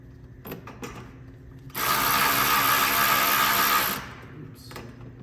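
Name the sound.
reinstalling splash guard bolt with fender washer, Jeep Wrangler JL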